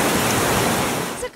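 Floodwater from a typhoon gushes through a broken section of a dike in Gihulngan City, a loud, steady roar of rushing water that fills the moment before cutting off abruptly at the end.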